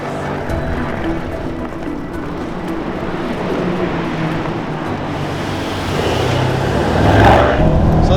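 A Mercedes-AMG E63 S saloon driven on a race circuit, its engine a loud steady drone from inside the cabin that swells as the car accelerates near the end.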